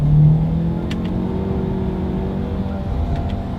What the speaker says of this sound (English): Let's do a quick little paddle shifter test here, and let's see how quickly they react for us.